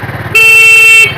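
A steady electric motorcycle horn, fitted with a 4700uF 50V capacitor, blares continuously for just under a second, loud and close, with the motorcycle's rumbling engine idling underneath before and after.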